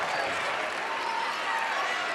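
Dense, steady roar of a basketball arena crowd at a women's college game, Stanford against Clemson, cheering continuously with a broad wash of noise and no break across the whole stretch.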